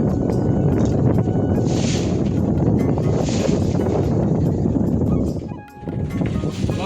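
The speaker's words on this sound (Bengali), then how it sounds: "এই বাপরে প্রচুর ঢেউ আরো" River waves wash around a boat in the Sundarbans, with heavy buffeting wind rumbling close on the microphone and a continuous churning roar that briefly dips near the end.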